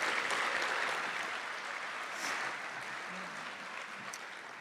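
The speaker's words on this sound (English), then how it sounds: "One more round of applause for all the award winners." Applause for award winners at the State Bar of Texas bar leaders recognition luncheon, an audience clapping fairly faintly at a distance, gradually tapering off.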